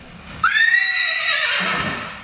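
A single horse gives a loud, close whinny lasting under two seconds, rising sharply then trailing off, with no talking over it.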